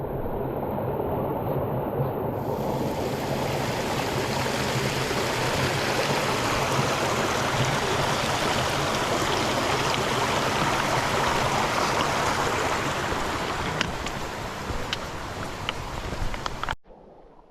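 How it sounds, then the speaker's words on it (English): Small waterfall at a stream crossing on the Overland Track in Tasmania, a steady close rush of falling water, loud and continuous with light wind buffeting the microphone before it cuts off abruptly. "Nice little waterfall at my crossing."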